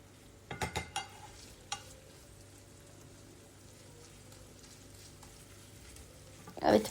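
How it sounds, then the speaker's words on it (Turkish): Minced meat frying in a pan and pressed apart with the back of a spoon, a faint steady sizzle with a few sharp taps and scrapes early on and a louder scrape at the end. "Kaşın tersiyle ezerek kıymayı açıyorum."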